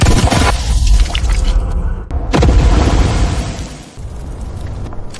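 Gunfire volleys in a period drama as ranks of soldiers fire in turn, a dense, loud roar of blasts and crackling that drops out briefly, then resumes as another heavy, sustained barrage.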